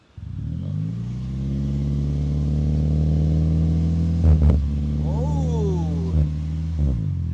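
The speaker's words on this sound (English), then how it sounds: "That Atkins cycle 4-cylinder really sounding rowdy there." Modified Atkinson-cycle four-cylinder car engine idling at the exhaust, then blipped with a few sharp revs near the end, loud and close to the microphone; a brief chirp and faint clatter appear during the run.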